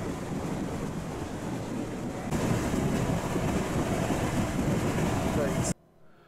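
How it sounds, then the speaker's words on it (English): Ride inside a train heading toward Sandy: a steady broadband roar of running noise and rushing air, slightly louder after a couple of seconds, cutting off abruptly near the end. "Oh, back on the train."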